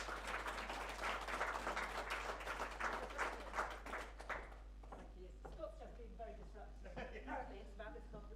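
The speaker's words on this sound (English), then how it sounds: "big round of applause, please" A conference audience at a fashion-future event in Dumfries applauds in a dense, steady wash for about four seconds, then the clapping thins out as a voice starts speaking.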